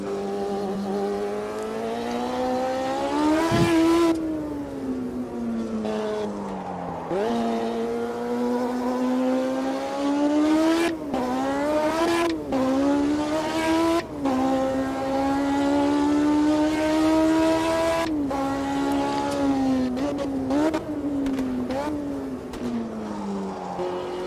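Race car engine in the sim racer Automobilista 2, a loud high-pitched whine climbing through the gears with sharp drops at each shift and braking point, interspersed with tire squeal, no talk over it.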